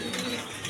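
A Creamber Beauty pigeon gives a brief, close coo, a soft throaty murmur lasting well under a second with no voices.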